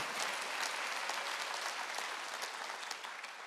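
Church congregation clapping their hands during a Wednesday worship service, a dense, steady patter of many hands, moderately distant and fading slightly toward the end.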